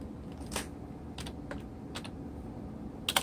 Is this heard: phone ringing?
no